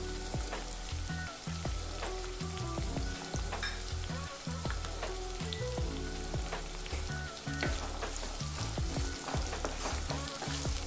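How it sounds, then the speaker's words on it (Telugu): Onions lightly frying in a pan for a Telugu amaranth-leaf stir-fry give a loud, continuous sizzle and crackle, broken by occasional clatter from stirring, with no talking. "ఉల్లిగడ్డ లైట్గా వేగితే సరిపోతుంది."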